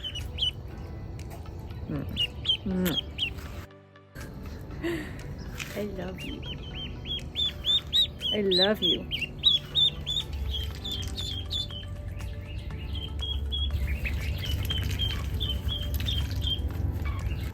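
Baby ducks being brought home peep in a run of high, repeated chirps through much of the stretch, with speech and some rustling underneath.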